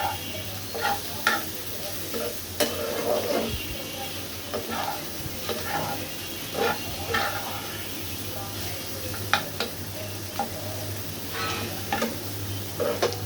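Bitter gourd slices frying crisp in a pan, with a steady close sizzle broken by repeated scraping stirs of the spatula, over a low constant hum.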